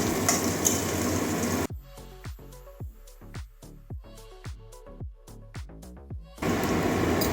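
Onion sizzles loudly in hot oil in a pan while cooking hilsa fish head with malabar spinach. The frying hiss is heard at the start and again at the end, with a quieter stretch of sharp clinks and taps in between.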